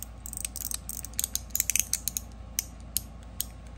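A Liuchu One Pal mechanical fidget slider in Ultem and zirconium slides back and forth, giving a quick run of sharp, close clicks and ratcheting snaps over a faint background hum.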